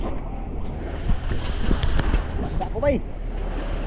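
Big waves of the West Philippine Sea slosh and rumble against a small boat that struggles to move forward, a steady close wash of water and wind noise under a voice.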